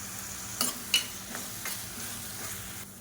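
Onions and chopped garlic sizzle and fry in hot oil in a pan, with a few sharp scrapes and taps of a stirring spoon against it over a steady, quiet crackle.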